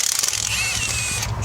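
A ratchet wrench loosens cylinder head bolts on a Corvette with Tuned Port Injection during a teardown, a rapid close clicking run followed by a brief grinding turn.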